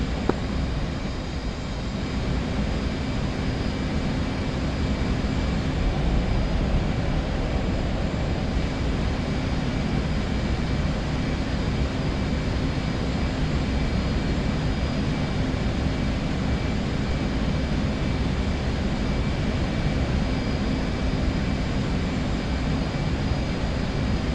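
F/A-18C fighter jet sitting on the runway in the DCS flight simulator, its engines giving a steady, loud, unbroken roar and whine that fills the whole stretch.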